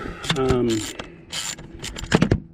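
Screws being worked loose with a number 10 Torx screwdriver on the clockspring of a 2015 Jeep Wrangler JKU, heard as short mechanical ratcheting clicks and scrapes in irregular bursts, close up and moderately loud.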